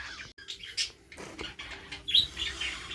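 Budgies in a breeding room chirp in short bursts with brief wing flaps, close and fairly quiet.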